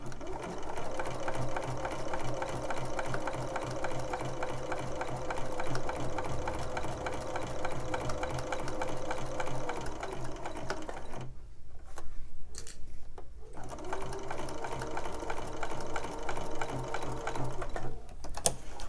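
A sewing machine stitches quilt fabric in a steady mechanical chatter, pausing briefly a couple of times before running on again, close and even.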